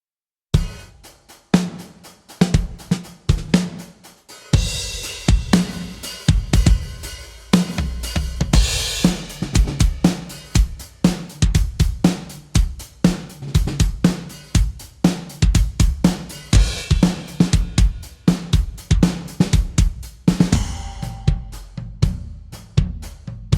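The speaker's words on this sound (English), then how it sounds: "And this is the second drum kit. It's a bit more mellow" A mellow, clean drum kit groove loop plays alone, steady kick and snare hits with soft cymbal washes repeating in a looping pattern.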